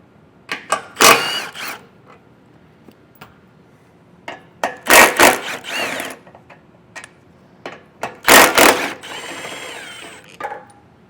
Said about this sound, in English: we're going to take a 15mm socket and remove the 2 nuts on top and the 2 bolts on bottom.